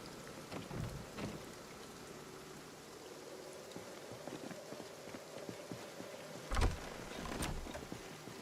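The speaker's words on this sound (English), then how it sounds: "so it should be raining a little bit right now." Steady rain hisses through a thunderstorm in the zombie survival game Project Zomboid, with soft drops tapping and a low thunder rumble swelling near the end.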